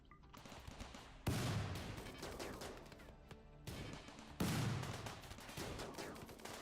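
Smoke shells popping in the game Rimworld, heard as two loud bursting blasts with crackling, popping fallout in between, close and dense, with no talk.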